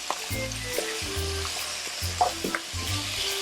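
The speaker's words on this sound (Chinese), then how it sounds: "把姜片我们刚切好的姜片这个放下去，然后还有蒜头，然后下去煸炒" Ginger slices and garlic sizzle and crackle as they are stir-fried in a wok, with rhythmic clanks and scrapes of the spatula every second or so over a soft, steady frying hiss.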